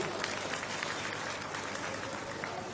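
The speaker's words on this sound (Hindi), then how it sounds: "इनके लिए मैं जोरदार तालियों की गड़गड़ाहट से स्वागत चाहता हूं।" An audience at a political rally claps steadily to welcome Akash Anand, a continuous dense patter of many hands heard at moderate distance without pauses.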